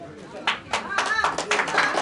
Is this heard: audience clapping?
yes